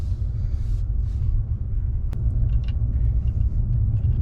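Mercedes CLA 200 on a road test near Ouchy: a steady low rumble of the car cruising, heard from inside the cabin, with faint light rattles and a brief click midway.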